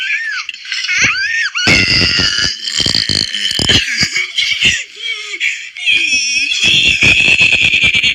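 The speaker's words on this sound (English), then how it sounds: "Today I'm gonna be burping at people on Omegle." A person burps loudly at strangers in an online video chat, several drawn-out belches broken up by laughter and shrieks, close and loud throughout.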